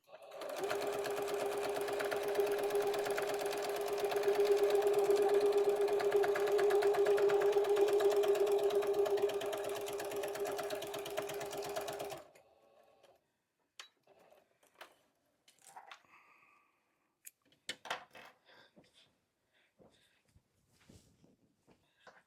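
A sewing machine stitches quilt binding in a steady, fast, close hum for about twelve seconds, then stops, leaving scattered clicks and fabric handling sounds.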